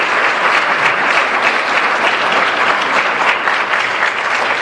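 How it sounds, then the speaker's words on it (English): At a school parent education night, an audience gives a hearty round of applause for a team of coaches, a loud, continuous, dense clatter of many hands with no speech over it. "And they do deserve a huge round of applause."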